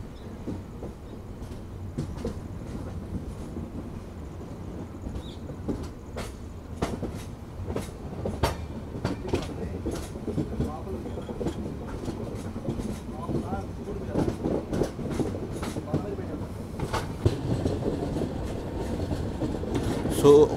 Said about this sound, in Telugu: సో మొత్తం లైన్లోకి వచ్చారు కాబట్టి యాక్సిలరేషన్ అయితే పెరిగింది